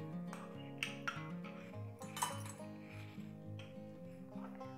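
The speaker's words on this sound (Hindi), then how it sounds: "अब इसमें मैं सीताफल का पल्प डाल" Soft clinks of a spoon and utensil against a pan as custard apple pulp goes into kheer, light and close over a steady background tone.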